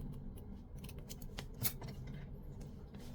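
Scissors snipping through fabric while trimming the edge of a curved waistband, a rapid series of close, crisp cuts over a low steady hum.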